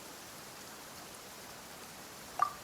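Soft, steady rainfall from a squall in the video game Genshin Impact, a faint even wash of drops that continues uninterrupted, with one brief small tap near the end.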